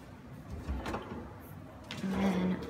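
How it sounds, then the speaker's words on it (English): A pull-out garbage bin drawer in a house kitchen slides open with a soft rolling rumble and a light thud, close and moderately quiet. "pull out garbage bins."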